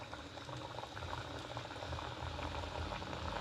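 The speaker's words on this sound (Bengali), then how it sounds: "এবার জিলিপিগুলোকে আস্তে আস্তে আমি ছেড়ে দেবো।" Chhana-style jilipi sweets dropped into hot oil fry with a steady, dense bubbling hiss that holds at an even level throughout, close and alone with no talk.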